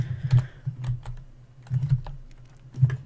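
Typing on a computer keyboard: a few close, faint clusters of key clicks separated by short pauses, with no voices.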